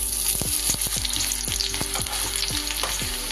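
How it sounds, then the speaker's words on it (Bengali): Chopped onion frying in smoking hot oil for Bengali katla fish kalia, a steady loud sizzle with repeated scraping stirs of a spatula against the pan, no voices. "তেলটা খুব গরম হলে তবেই ছাড়বেন পেঁয়াজটা।"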